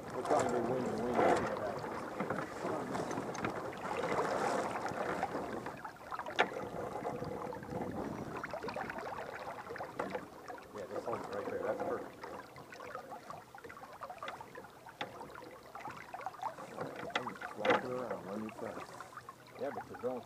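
Wind rushes steadily past a sailboat during a race, with constant broadband noise and water movement, and crew voices talking intermittently over it.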